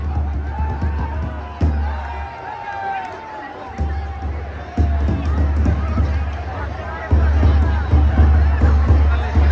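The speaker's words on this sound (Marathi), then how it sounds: "ही गर्दी बघा" Large outdoor crowd at a village fair in Adhalgaon, a steady loud babble of many voices and shouts, swelling in bursts, with people talking nearby throughout.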